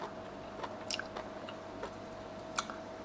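Soft, wet chewing and crunching of thick raw giant red clam close up, a few distinct bites spaced irregularly over a quiet background hum.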